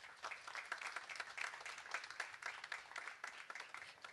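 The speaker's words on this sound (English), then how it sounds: "Please, once again, do give a huge round of applause to this legend right here." Steady applause from a crowd at an awards ceremony honouring veteran actor Shashi Kapoor, many hands clapping continuously at moderate volume throughout.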